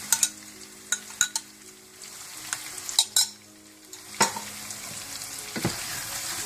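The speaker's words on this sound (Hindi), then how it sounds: "तो इसको फिर अच्छी तरह मिलाकर फिर भून लें थोड़ा सा।" Chicken handi sizzles and fries in a pot after whisked yogurt goes in, with a steady hiss under sharp intermittent clinks and scrapes of a spoon stirring against the metal.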